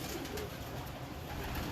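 Pigeons of the Jeth category, kept by a Sialkot breeder, cooing steadily in a low, continuous murmur throughout, with no speech.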